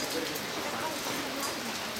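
Rain falling during an outdoor poetry evening, a dense steady patter of drops on surfaces heard close, with faint voices mixed in.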